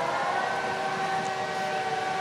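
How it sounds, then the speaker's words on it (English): Air raid sirens wailing during a holiday tour while camped in a quiet private garden, a steady sustained tone holding loud and unbroken throughout with no voices. "all of a sudden the air raid sirens went off."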